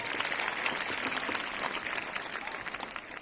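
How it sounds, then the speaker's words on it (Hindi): Audience at a school National Mathematics Day celebration clapping, a dense, steady patter of many hands at moderate distance, fading slightly toward the end. "एक बार जोर से ताली बजाएंगे आप"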